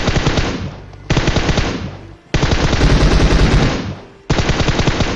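Loud automatic gunfire from the mobile battle royale game PUBG Mobile, several long rapid bursts separated by brief pauses, close and dominant with no talk over it.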